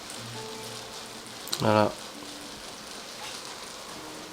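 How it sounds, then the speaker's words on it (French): Steady rain falls as a constant soft hiss of drops, with a voice briefly speaking over it partway through. "Ça ne s'arrête pas de pleuvoir."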